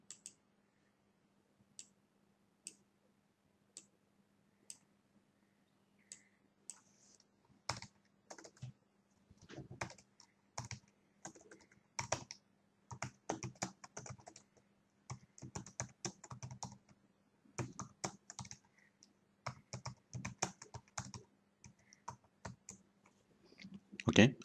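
Typing on a computer keyboard while writing a welcome slide for a fashion house presentation: sparse single key clicks at first, then dense bursts of rapid keystrokes, close and clear with no talking.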